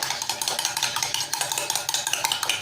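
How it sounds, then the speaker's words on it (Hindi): Egg and sugar mixture being beaten with a spoon in a bowl at home, a steady run of quick rhythmic clicks and scrapes, close and fairly loud with no talking. "अब हम इन दोनों चीज़ों को अच्छी तरह से पहले बीट कर लेंगे"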